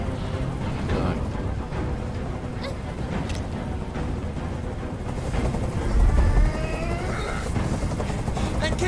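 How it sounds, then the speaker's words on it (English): A helicopter hovers overhead in the Detroit video game, its steady thumping rotor drone loud and continuous throughout, with brief low booms and rumbles in the mix. "I can't stand that noise anymore. Tell that helicopter to get out of here."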